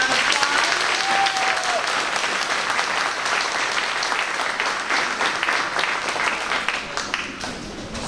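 An audience at an elementary school 5th grade promotion ceremony bursts into sustained applause, a dense wash of clapping that tapers slightly toward the end, with faint voices mixed in.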